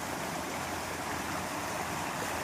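Steady broadband rush of water flowing at a village dam on a river, continuous and even, fairly faint, with no voices.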